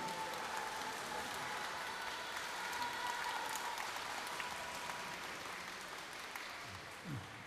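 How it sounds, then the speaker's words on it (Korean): A hall audience at a Bulgwang-dong residents' briefing in Eunpyeong applauds to welcome the district mayor, a dense, steady clapping that fills the whole stretch at moderate level before tapering slightly at the end. "뜨거운 박수로 환영해 주시기 바라겠습니다"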